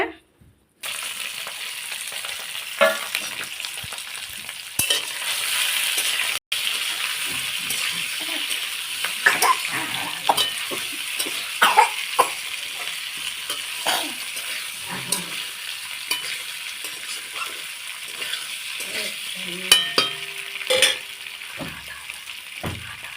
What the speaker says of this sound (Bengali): আমি সয়াবিন আলু তরকারি করছি